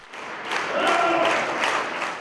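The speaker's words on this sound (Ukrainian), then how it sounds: "Після кожної композиції чернігівці віддячували гучними оплесками" Audience in Chernihiv applauds loudly after a festive Christmas-show dance number, a dense wash of clapping that swells and holds for a couple of seconds with a faint voice audible within it.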